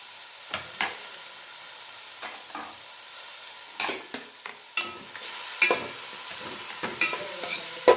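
Onions with curry leaves and mint sizzle in oil for vermicelli pulao, a steady close hiss broken by scattered spoon scrapes and taps against the pan that grow busier toward the end, with no speech.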